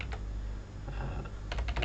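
A computer keyboard typed on at close range, a run of light clicking keystrokes that quickens into a dense burst toward the end.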